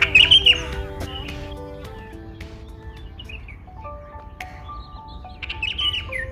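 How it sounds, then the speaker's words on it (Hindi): Bulbuls chirp from a tree in the morning, with quick bright twittering bursts at the start and again near the end and softer calls between, fairly close and with no one talking. "ये अभी अभी सुबह सुबह तो बुलबुल ही रहेंगी। एक अंदर घुसी है यहाँ पर पेड़ में कहीं पर।"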